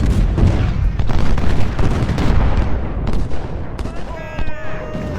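Musket volleys crackle in the Ultimate General Civil War video game, a loud, dense fusillade of overlapping gunshots with booming low rumble, followed by a distant rising tone toward the end.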